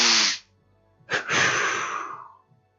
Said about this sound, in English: And the last technique is a double inhale, double exhale.